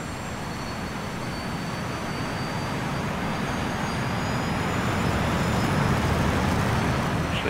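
SR-71 Blackbird afterburner roaring in the DCS World flight simulator, a dense, steady jet rumble that holds at high level throughout without pause or talk, swelling slightly toward the end.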